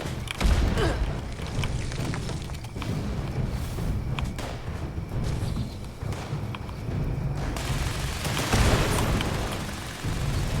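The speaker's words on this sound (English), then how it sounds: "Oh, grenade." A grenade blast in Fallout 76 set in an abandoned village, a heavy booming explosion near the start with a second loud burst later, over a dense rumbling game soundscape.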